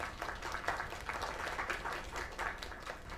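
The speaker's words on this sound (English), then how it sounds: "Another round of applause" An audience applauding in an animated cartoon, a dense, steady wash of clapping that holds at even loudness for about three seconds with no voices over it.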